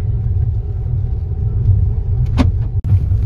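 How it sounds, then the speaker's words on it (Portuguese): A car drives over a potholed road, giving a heavy continuous low rumble from inside the cabin, with a brief knock partway through and a sharp jolt near the end. "aqui o carro treme, que é umas buracadas"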